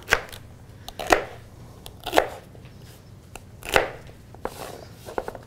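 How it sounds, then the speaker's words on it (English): Food processor blades chopping vegetables such as celery, in quick loud bursts roughly once a second with quieter gaps between, close up and without talk. "I'm going to use a food processor so the veg all gets to be kind of the same size"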